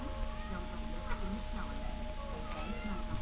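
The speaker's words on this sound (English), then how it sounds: "There's a cat in my room." A cat in heat meows several times inside a room, the cries thin and moderate in loudness over a steady background hum.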